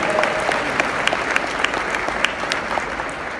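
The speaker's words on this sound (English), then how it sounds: "Give her a round of applause." Conference audience applauding at the Foundational Black American Conference in Atlanta, a dense, steady wash of many hands clapping at close range throughout, with scattered sharper claps standing out.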